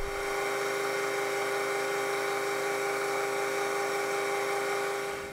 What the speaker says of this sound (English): Okay, I can center drill that and bore it out